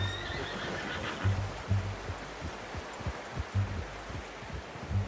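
A horse whinnies in the video game Red Dead Redemption 2, a faint, thin neigh early on over rhythmic low hoof thumps and a soft ambient outdoor bed.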